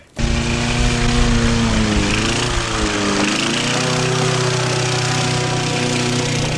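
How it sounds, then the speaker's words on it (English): A lawn mower mowing a yard runs as a loud, continuous engine drone that dips briefly in pitch partway through, as if under load, before settling back to a steady hum with no voices. "Try to keep those lines straight when you're mowing the yard."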